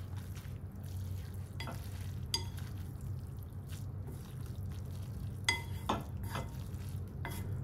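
Drained Shin Ramen noodles are stirred through chili oil in a pan, a soft, steady wet sizzle with occasional sharp utensil clinks and no talking.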